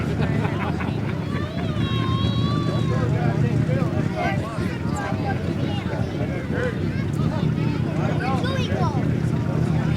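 A brand-new alcohol-burning pulling tractor with a John Deere body roars steadily and loudly at an Imlay City truck and tractor pull, with constant engine noise and wind buffeting throughout.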